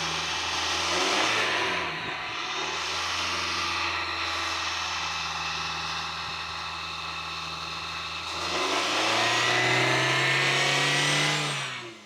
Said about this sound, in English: You wanna get in there and rev it?